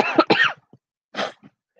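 A person with a virus coughs several times in quick, harsh bursts, then gives a short throat clear after a pause, close up with no other sound.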